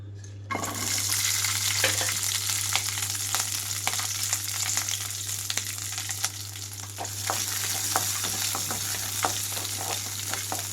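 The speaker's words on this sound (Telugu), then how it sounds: "ఆయిల్ కొద్దిగా హీట్ అయిన తర్వాత పచ్చిమిరపకాయలు మధ్యలోకి కట్ చేసి వేసుకుంటున్నాను" Halved green chillies fry in a little hot oil with a steady, close sizzle and crackle, plus occasional stirring scrapes, with a constant low hum underneath and no talking.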